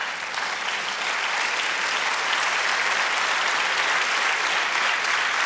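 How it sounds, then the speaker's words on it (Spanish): A church congregation at a jubilee service in Poughkeepsie, New York, applauds in praise. The clapping is dense, steady and loud, a continuous wash of many hands with no voices standing out. "Denle un aplauso al Señor."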